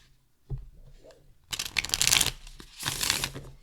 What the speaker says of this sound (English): I love these riffle shuffles.